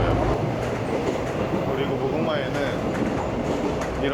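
Running noise of an older Mugunghwa passenger train in Korea, a dense, loud, steady rumble with rail clatter and faint wheel squeal filling the whole clip, while a voice speaks briefly over it.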